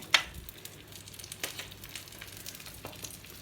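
Thick homemade ghee sizzling on a hot dosa pan, a soft crackling fizz with a sharp spatter at the start and a few faint pops after, close and quiet, no voices.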